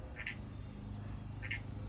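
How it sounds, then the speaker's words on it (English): A frog croaks twice in a garden by a freshly planted container of annuals, short mid-pitched calls about a second and a quarter apart over a steady low background hum. "Do you hear the frog?"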